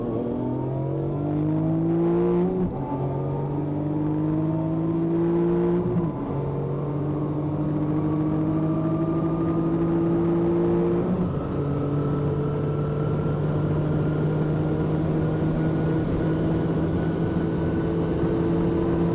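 A Porsche 997 GT2 races a black Lamborghini Gallardo from a rolling start at an airfield, engines droning loud and steady with rising pitch through several gear changes, a continuous close roar throughout.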